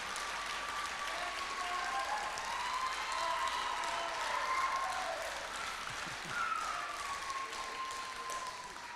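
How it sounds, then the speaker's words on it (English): An audience at a firefighter academy graduation gives sustained, steady applause for the class, a dense even roar of clapping with a few whistles and cheers mixed in, lasting throughout. "One more round of applause for class number 10"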